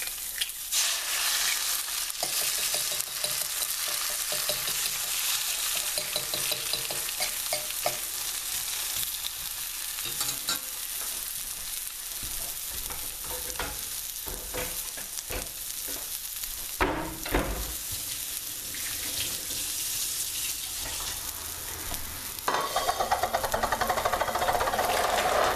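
Egg frying in a skillet over potatoes, with a steady broadband sizzle and crackle running throughout, occasional spatters and pops, and a brighter surge of sizzling near the end.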